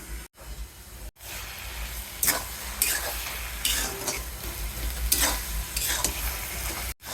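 Taro greens stirred in a pan over heat to cook off their water, a steady sizzle and hiss broken by scraping strokes of the spoon every second or so, close and fairly loud with no talking.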